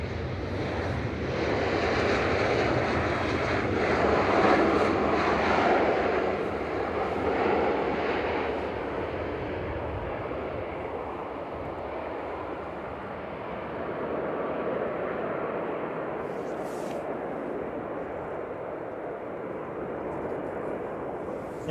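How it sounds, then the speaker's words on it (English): EasyJet Airbus A320 Classic arriving from Athens and touching down at Manchester Airport, a loud broad jet roar that swells early, eases, then rises again as the airliner rolls out, steady and close throughout. "EasyJet from Athens just touching down"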